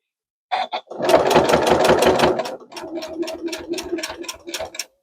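A sewing machine stitches a two-color faux flange quilt binding around a corner, close and loud: one long rapid run of stitching, a brief pause, then a second steadier run of quick needle strokes.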